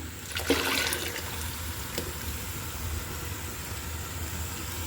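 Chicken broth pours into a pot of lightly fried rice for a Bengali morog polao, giving a brief splashing gush near the start that settles into a steady low rumble of liquid and stove noise.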